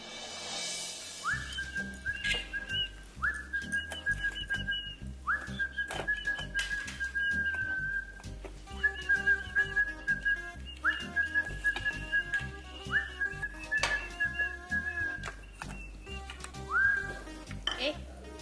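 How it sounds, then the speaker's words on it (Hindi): A person whistles a tune in a series of short, repeated phrases, steady and fairly close, with light clinks and household sounds in the background. "देख रहा हूँ तू सीटी बजाते हो, बड़ी अच्छी लग रही है।"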